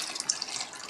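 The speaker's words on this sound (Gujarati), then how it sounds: "મેં 2 ગ્લાસ જેટલું પાણી નાખ્યું છે." Water poured into a pressure cooker on a gas stove, with turmeric and salt added, to boil potatoes: a brief, steady splashing rush that is fairly close and heard alone.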